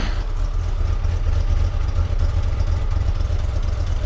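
An Audi 80 engine idling while it warms up, a steady low rumble with a slight clattery edge that holds evenly and close for the whole stretch.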